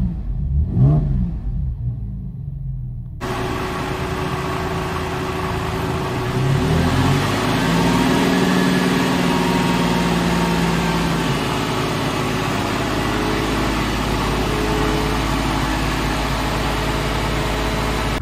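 A Porsche 911 of the 997 generation drives along on the road, its engine note loud and steady throughout, swelling as it pulls and accelerates, with no voices over it.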